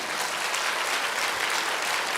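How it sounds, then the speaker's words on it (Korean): Warm, even applause from a church congregation welcoming visiting missionaries and ministers, a dense wash of clapping that holds steady through the short moment. "우리 박수로 환영하겠습니다."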